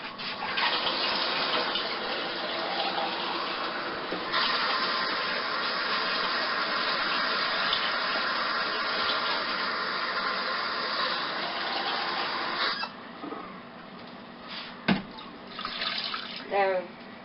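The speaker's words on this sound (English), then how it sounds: "Actually, let me add some more water." Tap water runs steadily into a big pot for a seafood boil, a continuous loud gush that stops near the end, followed by a few clinks and small handling noises.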